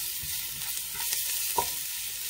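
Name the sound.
garlic sautéing in oil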